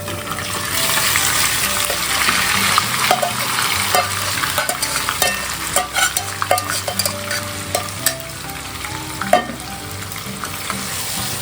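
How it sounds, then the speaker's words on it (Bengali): Marinated chicken for methi malai chicken sizzles loudly in a hot pan while being stirred, with steady frying hiss and irregular scraping clicks from the utensil, no talk. "এইবার আমি এই ম্যারিনেট করা চিকেনটাকে এর মধ্যে দিয়ে দেবো।"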